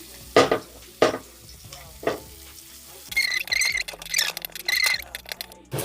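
Leafy saag greens fry in oil with garlic and chili in a pan, with several distinct stirring scrapes followed by a steady, crackling sizzle close by.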